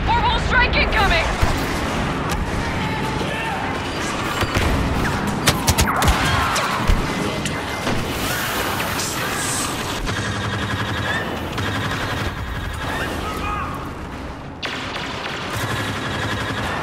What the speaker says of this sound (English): Orbital strike incoming!